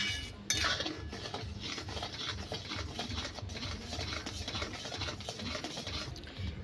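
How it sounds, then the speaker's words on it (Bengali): A spatula stirring Gobindobhog rice sandesh mixture in a pan over low heat, making a continuous close scraping and rubbing sound with soft metallic taps. "খুন্তিয়ে করে এইবার বারে বারে নেড়ে নিতে হবে"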